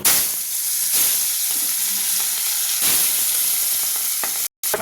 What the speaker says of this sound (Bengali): বন্ধুরা, এটা বোয়াল মাছ রান্না করব আলু দিয়ে।